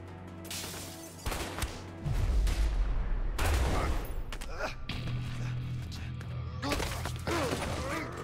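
Gunshots in the game A Way Out, with a sharp volley of shots, thuds and a crash in the first half followed by lower rumbling and more scattered shots, while players talk and shout over the action.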